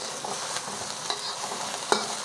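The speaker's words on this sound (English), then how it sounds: "we're gonna add our onions. Just gonna stir fry this for about a minute." Onions stir-fry in avocado oil in a hot pan, a steady close sizzle with scraping stirs and a few sharp clinks.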